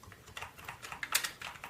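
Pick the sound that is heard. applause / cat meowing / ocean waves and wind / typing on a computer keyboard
typing on a computer keyboard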